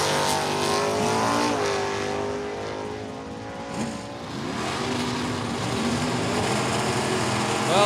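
Drag race between a 350 Camaro with a small two-barrel carburetor and an automatic 1969 Camaro: loud, sustained engine roar with rising and falling revs, heard at a distance across the track, with no talk over it.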